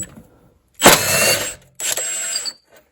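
A power tool spins a bolt loose on an Infiniti Q70 during ABS module removal, two loud whirring mechanical bursts with a ratcheting rattle, the first longer and the second shorter after a brief pause.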